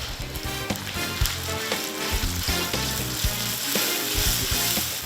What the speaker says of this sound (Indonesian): Selanjutnya masukkan cabai merah besar, oseng-oseng lagi guys.